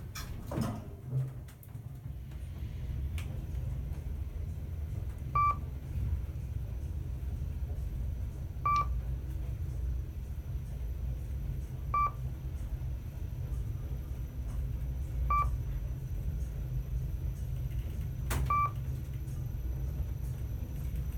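A KONE MonoSpace elevator with EcoDisc machine and KSS 500 doors travels up in a Raleigh, North Carolina residential building, a steady low rumble in the car broken by regular faint chimes or beeps every few seconds, likely floor passing signals.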